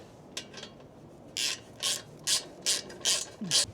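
A ratchet clicks in short bursts as bolts on a Royal Enfield Meteor exhaust are tightened, with a few faint early clicks followed by six loud, evenly spaced ratcheting strokes, close up and with no talk.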